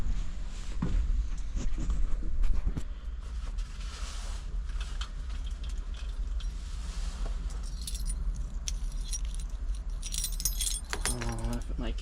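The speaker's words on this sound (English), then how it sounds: "I don't know if my keys will even work in here." Keys jangle near a large used Kubota machine at a tractor dealer, metallic chinks rising over a steady low background rumble, with some handling clatter toward the end.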